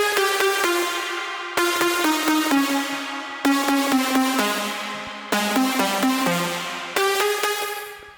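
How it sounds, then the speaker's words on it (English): Top melody built from several layered synthesizers, playing a sequence of struck chord-like notes that each ring out and decay, with a new attack roughly every second and a half, clear and up close with no voices. "It's a couple of synthesizers together,"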